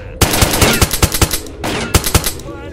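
Machine gun fire in the shooter game S.T.A.L.K.E.R., loud rapid bursts of close automatic shots in two volleys.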